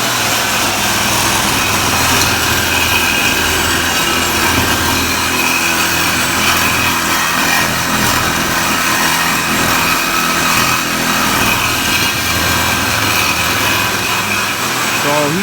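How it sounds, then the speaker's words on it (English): A power tool cuts down the body flanges on a 2007 Mustang, giving a loud, continuous grinding whine that holds steady and close throughout. "He's in there cutting the flanges down so that they're nice and clean like I did this side the other day."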